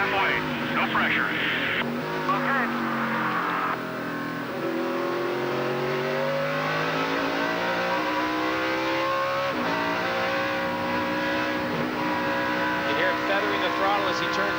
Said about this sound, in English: Feathering the throttle as he turns into the first part of the S is so important.